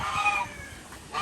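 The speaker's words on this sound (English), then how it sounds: "All the birds are letting me know they're hungry" Hungry farm birds, including chickens and a goose, call continuously over steady outdoor background noise, with clucking and a rooster-like crow rising near the end.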